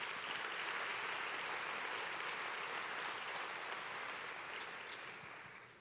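A church congregation applauds after a sermon, a dense, sustained wash of many hands clapping together that stays steady and then fades slightly at the end.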